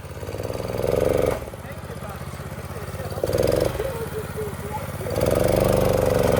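A small Honda engine on a fast farm runabout with no brakes revs in three separate surges, dropping back between them, close by while people talk over it.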